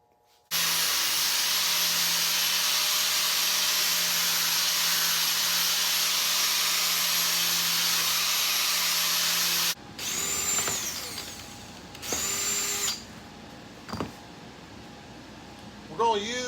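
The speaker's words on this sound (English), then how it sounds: "then we'll go ahead and drill our holes for our Zeus buttons" A power drill runs steadily and loudly for about nine seconds, boring holes in the rear sail panel of a NASCAR Craftsman truck, followed by a few short, quieter drill bursts and light clatter.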